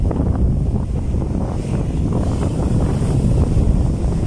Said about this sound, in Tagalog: sobrang lakas talaga ng alon